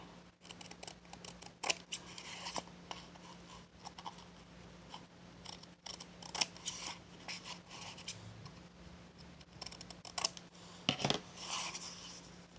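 Scissors snip and rub as a paper box corner is trimmed at an angle, small scattered cuts and scrapes at close range, quiet and unhurried, without speech.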